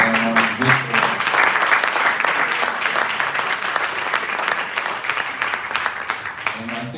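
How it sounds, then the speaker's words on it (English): A crowd at a church-like gathering breaks into sustained, dense applause that stays loud and steady throughout, with a few faint voices mixed in. "So, yeah, you can clap for that, a national landmark."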